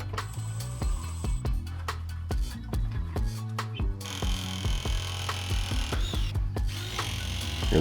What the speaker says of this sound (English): going to finish pressing this last 90 on, and everything after this is going to be threaded